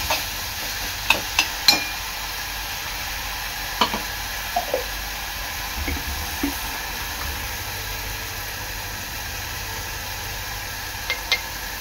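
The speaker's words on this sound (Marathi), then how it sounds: "आता हे वाटण आहे ना आपण तळून घ्यायचं आहे चांगलं" Ground masala paste for stuffed crab fries in a pan with a steady, hissing sizzle, broken by a few soft clicks and scrapes of stirring, close and alone.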